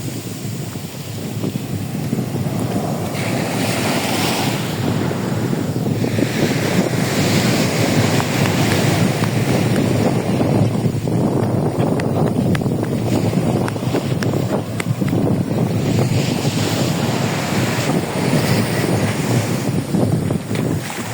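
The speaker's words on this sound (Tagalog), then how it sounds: "Mas mataas yung alon niya ngayon." Ocean surf rolls and crashes continuously under heavy, buffeting wind at a beach on Jomalig Island, with high waves, loud and close with no voices.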